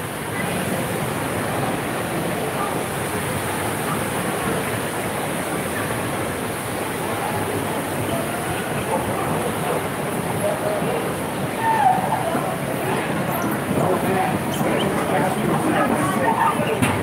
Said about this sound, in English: these are cool fountains right here